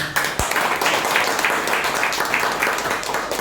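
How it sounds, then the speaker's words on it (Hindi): Enthusiastic audience applause at a motivational talk, a dense, steady wash of many hands clapping continuously from start to finish, fairly loud and with no one speaking over it. "तो सर के लिए एक जोरदार ताली।"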